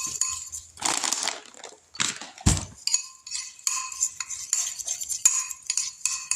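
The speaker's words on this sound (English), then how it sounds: "I'm going to mix this up." Donut batter with sugar mixed in a bowl at home, a spoon scraping and clinking against the sides in bursts with short pauses between them, close and moderately loud, with no talking.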